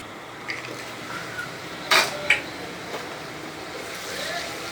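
A metal lid goes onto a pot of carrots cooking over low heat, making two quick clinks close together against a soft, steady background hiss.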